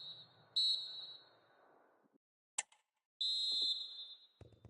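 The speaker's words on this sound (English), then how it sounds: "And the whistle." Referee whistle in a football video game, two long shrill blasts separated by a short gap and a brief chirp, over faint crowd and commentary murmur that drops away before the second blast.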